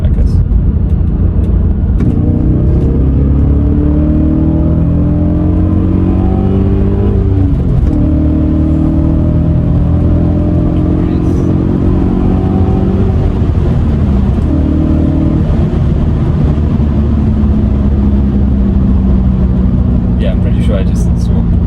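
An Audi B7 RS4 with its V8 accelerates hard, the engine note climbing through rising pulls with gear changes between them, heard from inside the car as a loud, steady roar while people talk over it.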